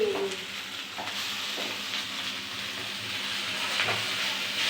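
Chowmein is stir-fried in a pan at home, with a steady hissing sizzle under brief scraping stirs of a metal spatula, close and continuous, no talk.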